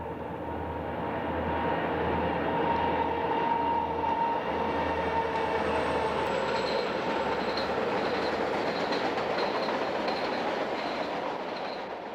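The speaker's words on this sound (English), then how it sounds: "This westbound has left Kelso Station, and it's heading past the Devil's Playground toward Afton Canyon." A westbound Union Pacific freight train rolls past Kelso Station in the desert toward Afton Canyon, a broad steady rumble with faint rhythmic wheel clicks, continuous and moderately loud, no voices.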